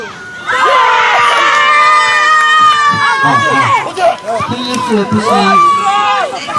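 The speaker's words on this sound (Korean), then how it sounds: "박수." Crowd noise at a youth football match, with loud children's shouting and cheering swelling over close-range voices, sustained and busy through most of the stretch with some speech and calls mixed in.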